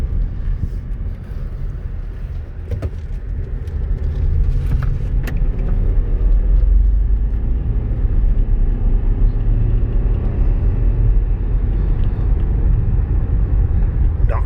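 A 2011 Nissan Rogue SV AWD with a CVT on a test drive, giving a steady low road and tire roar with constant engine hum heard from inside the cabin. The noise builds slightly and holds loud throughout, with no talking.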